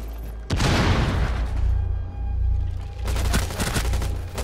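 An explosion in Rainbow Six Siege gives a sudden loud boom followed by a long rumbling roar, with a second burst of crackling blasts near the end.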